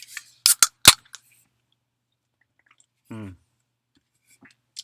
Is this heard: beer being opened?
yes